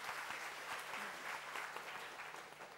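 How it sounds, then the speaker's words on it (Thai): Audience applause welcoming a guest onto a stage at an investment talk, a dense, even patter of many hands, quiet and distant, lasting the whole stretch without talk. "ขอเสียงปรบมือต้อนรับพี่หมอเคด้วยค่ะ"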